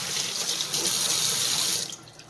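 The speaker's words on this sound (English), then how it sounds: "we're going to rinse our hands off" Tap water runs steadily into a sink as hands are rinsed under it, a close, continuous splashing hiss that stops abruptly near the end; no talking.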